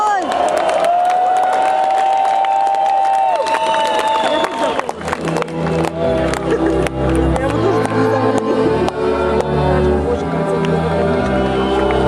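A crowd at a rock concert in Tambov cheers, whoops and applauds loudly for several seconds, and a sustained tone fades into layered crowd roar and clapping that carries on to the end.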